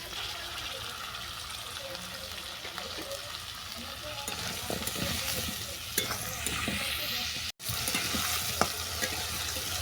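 Elephant foot yam greens and vegetables sizzle and hiss steadily in a hot pan, with occasional scraping and stirring, close up and continuous throughout.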